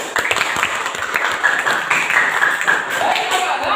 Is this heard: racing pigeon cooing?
no